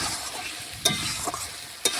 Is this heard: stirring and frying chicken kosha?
yes